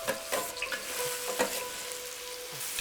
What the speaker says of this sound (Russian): Масло и лук встречаются с задорным шипением.